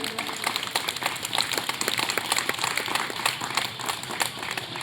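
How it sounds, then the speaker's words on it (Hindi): A crowd at a Hindu gathering in Begusarai claps steadily for several seconds, a dense, fairly loud patter of many hands with no voices on top. "जोरदार ताली हो जाए।"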